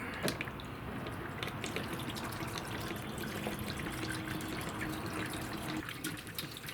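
Fuel pours steadily through a Scrunnel funnel in a soft, continuous liquid trickle, faint and close, with light dripping and splashing.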